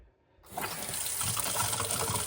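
Water gushes steadily from a sink faucet on new PEX supply lines after a brief silence, a loud continuous splashing rush that holds to the end.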